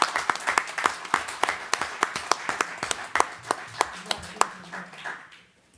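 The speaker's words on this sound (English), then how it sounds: "And let's give him a round of applause." Applause at a city council meeting, a small group clapping with individual claps clearly distinct in an uneven rhythm, fading out toward the end, with a faint voice in the background.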